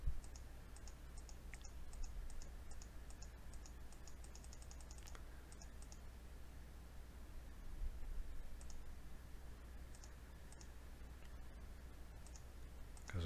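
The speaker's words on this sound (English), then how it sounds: "I just try and click until they go away." Quick mouse clicks skip through game cutscenes in a survival strategy game, a scatter of light, sharp ticks in bursts over a quiet hiss.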